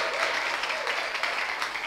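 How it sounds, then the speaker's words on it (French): Studio audience on a French-language television talk show applauds warmly, a brief, even wash of clapping with no voices over it. "Un charmant public autant pour nous qu'on va applaudir très fort."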